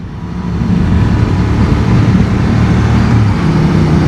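Honda Transalp adventure motorcycle accelerating, a steady, loud engine drone with low rumble and rising wind rush that builds after a quiet start and holds strong throughout.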